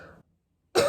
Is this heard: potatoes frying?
no